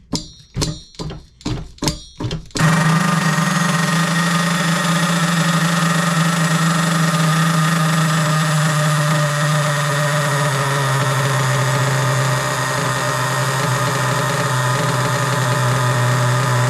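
An HPI Savage 4.6 nitro RC truck engine during break-in, a few rapid pull-start thunks and then the small engine catching into a loud, steady, buzzing idle that continues close up to the end.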